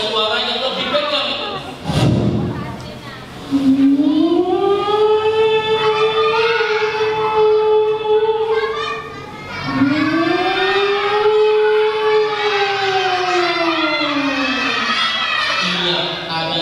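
Played as a sound effect for a scene in Palestine, a civil-defense style siren wails in two long rising and falling sweeps, loud and close, with crowd noise and shouting children underneath.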